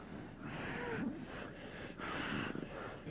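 A woman breathes heavily in laboured, wheezing pulls, several rasping breaths in a row, close and fairly loud against a quiet room.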